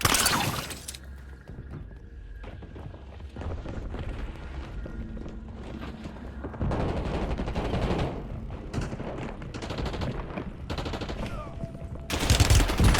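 Video game gunfire crackles in loud, dense bursts of automatic fire and sharp single shots, with short lulls between volleys and a heavy burst at the end.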